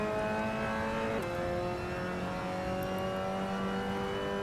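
A Mazda MX5 engine held at full throttle in the Assetto Corsa racing game, a loud steady drone that climbs in pitch, drops sharply with a gear change, then climbs again, with no talking over it.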